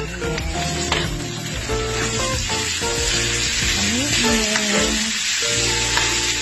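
Liver added to browning pork for pork menudo hits a hot pan with a loud, continuous sizzle, layered with stirring scrapes and faint background tones, close and steady throughout.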